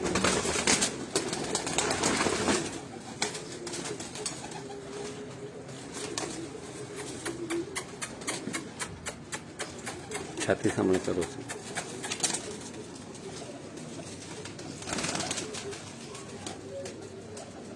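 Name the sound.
Cheena pigeons cooing on a rooftop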